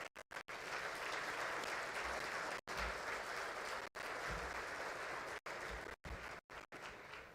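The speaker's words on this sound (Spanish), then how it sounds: "Un fuerte aplauso para él," Audience applause at a forum on Argentina's economy, honoring a speaker, a continuous fairly quiet wash of clapping from a crowd, cut by several abrupt dropouts.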